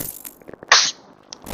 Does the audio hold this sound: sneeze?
yes